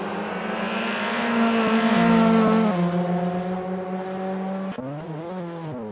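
Race cars in a GR Cup race at Indianapolis Motor Speedway, engines roaring loud and close with a sustained high whine, pitch dropping as one car shifts, then a sharp gear change and rising rev near the end.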